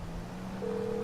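Phone in Grand Theft Auto V ringing with a brief electronic tone that steps up to a second pitch, short and clear.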